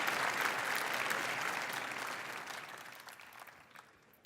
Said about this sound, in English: So let's all give a shout out and a clap for Einstein.